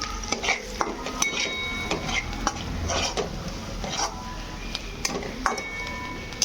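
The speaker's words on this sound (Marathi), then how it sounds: "आता त्याला हलवून घेऊया." Spices and red chilli powder being stirred in a pan for vada curry, with repeated scraping and clinks of a spoon against metal over a soft sizzle, close and without talk.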